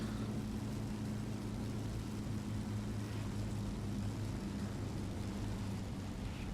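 A steady, droning Me 264 bomber engine hums in War Thunder as the plane comes in to land, a constant low propeller drone that neither rises nor falls throughout.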